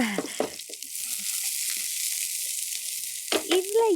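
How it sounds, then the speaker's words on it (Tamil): Small onions drop into hot oil for a mutton kurma and sizzle with a bright, steady hiss, close by, while a voice briefly chimes in at the start and end. "நம்ம இப்போ எண்ணெயை சேர்த்துருக்கோம் அண்ட் கொஞ்சமாக சின்ன வெங்காயத்தை அதில் ஆட் பண்ண போகிறோம்"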